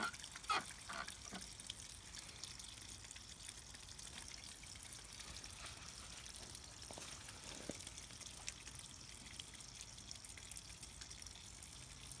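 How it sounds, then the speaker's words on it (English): Steady trickling and dripping water draining from the lines of a Prier outdoor faucet after the hose is removed, continuous and moderately quiet with faint splashes. "drain the excess water out of the lines"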